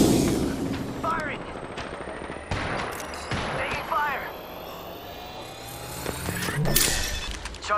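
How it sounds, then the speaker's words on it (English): Gunfire in the game Apex Legends: scattered shots and bursts crackle through a busy battle mix of effects and ambience, moderately loud, with a voice talking over parts of it. "Firing. Taking fire."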